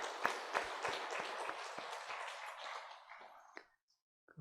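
A church congregation at a Sunday Easter worship service breaks into warm applause, a dense wash of many hands that thins out and fades to quiet after a few seconds.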